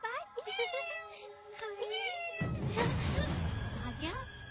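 Cats meow repeatedly in a movie scene in a village home, a run of quick close meows followed by one longer wail over a sudden surge of loud, noisy background.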